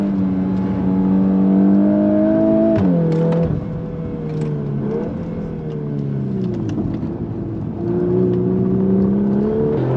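VW Golf R Mk8 racing a Japanese rival car, loud sustained engine whine rising and falling through gear changes, close and continuous.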